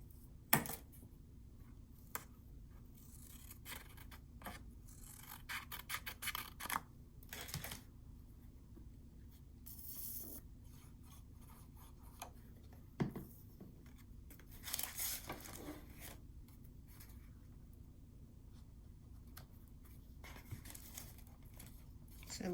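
Scissors trimming a small strip of paper off a junk journal flip book page, a few faint, scattered snips and rustles in a quiet room, with a voice speaking now and then.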